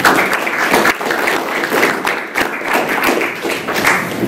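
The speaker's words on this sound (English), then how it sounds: "give the warm thank you and an applause to our distinguished panelists today" Applause for a panel of speakers at a Startup Week session on AR/VR in real estate, close and loud clapping from a modest crowd in an uneven, continuous patter with individual claps standing out.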